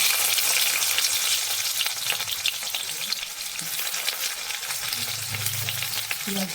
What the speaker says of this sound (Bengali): ফোড়ন দুটো শুকনো লঙ্কা দিলাম ঠিক আছে এবারে আমরা আলুটা ছেড়ে দিলাম